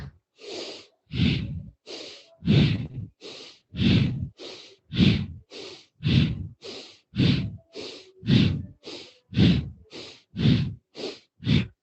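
Rapid, forceful breaths in and out through the nose during a kundalini yoga exercise, about eighteen evenly spaced puffs in twelve seconds. The rhythm is steady and close.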